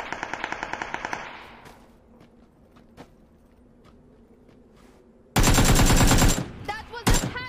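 Rapid automatic gunfire in a video game rattles loudly at first, then fades to sparse scattered shots before another long, very loud burst of close fire with a few trailing shots.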